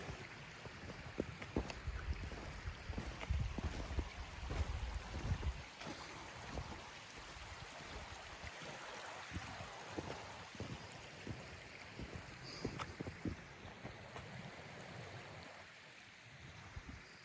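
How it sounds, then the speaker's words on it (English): A creek near Tygart Lake flows with a continuous low rush and babble of water, joined by scattered footsteps and rustling from someone walking along the bank. "Mainly the stream."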